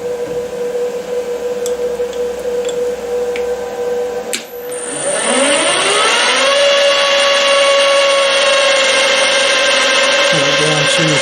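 Metal lathe taking a cut with a form tool, ending a quiet spindle hum as a loud, steady, shrill cutting whine begins around the midpoint and holds close and continuous to the end.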